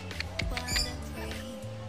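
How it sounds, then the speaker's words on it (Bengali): Several kinds of birds call inside an aviary at a water park, giving short squawks and chirps over a steady background hum, fairly close and moderately loud. "অনেক রকমের পাখি এখানে ডাকছে।"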